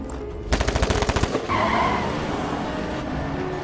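A rapid burst of close machine-gun fire in a film shootout, about a dozen evenly spaced shots, followed by screeching tires and a car roaring away.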